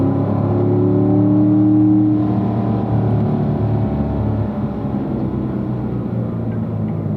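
A race car engine rumbles low and steady while cornering on track, a continuous droning growl with a slight easing of intensity partway through, heard from inside the car with no talking.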